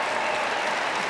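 Sustained crowd applause fills an arena during Sporting Group dog show judging, a dense, loud, even wash of clapping with no breaks.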